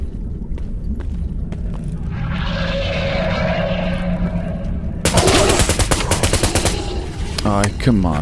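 Loud, rapid bursts of automatic gunfire from the S.T.A.L.K.E.R. Anomaly video game break in sharply over a steady droning hum, with closely spaced shots followed by a brief rising whine.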